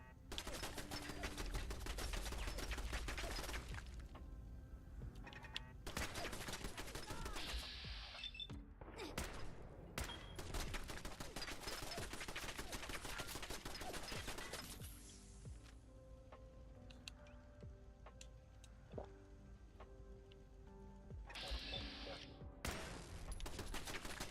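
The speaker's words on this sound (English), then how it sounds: "Oh, turret." Turret gunfire in the Fallout 4 video game, in survival mode: long sustained bursts of rapid automatic fire, loud and dense, broken by short pauses, with a quieter stretch in the middle before firing resumes.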